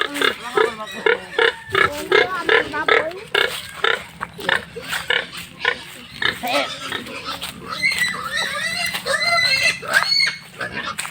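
A pig caught for slaughter squeals and shrieks in rapid, repeated bursts, loud and close, while people talk and shout around it.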